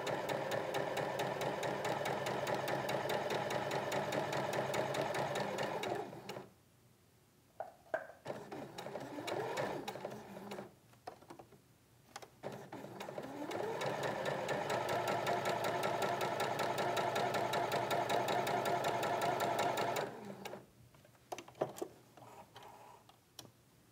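A sewing machine runs in long steady bursts while stitching a quilted arrow block, its rapid mechanical ticking interrupted by brief pauses, then starting again. Close and loud, with no talking.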